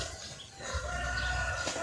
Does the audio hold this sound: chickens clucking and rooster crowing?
yes